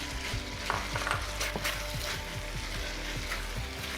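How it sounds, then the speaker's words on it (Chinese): Bell peppers are stir-fried in a wok with sweet and sour pork in thick sauce, a close, constant sizzle broken by quick, rhythmic scraping tosses of the spatula. "彩椒下锅，随便翻炒2下"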